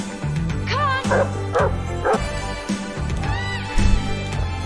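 A dog in a scene from the film Labyrinth gives a run of yipping barks and whimpers over steady background music, moderately close, with a few short pauses between bursts.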